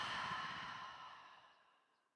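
A single long, deep breath out during yoga breathing, close and soft, starts breathy and full and fades away over about two seconds into silence.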